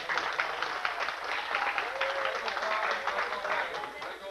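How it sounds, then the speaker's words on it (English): A small audience gives a short round of applause for a scout at an Eagle Scout awards ceremony, steady clapping, with voices faintly underneath. "A little round of applause"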